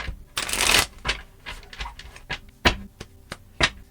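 Tarot cards being shuffled by hand, a dense riffling burst followed by a string of separate sharp taps and slaps as the deck is squared, close and clear.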